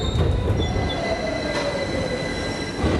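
London Underground train arriving at Stockwell station, a steady loud rumble of wheels on rail with long high-pitched wheel squeal as it slows, filling the whole stretch without voices.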